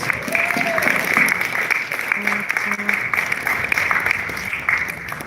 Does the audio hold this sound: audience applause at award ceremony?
yes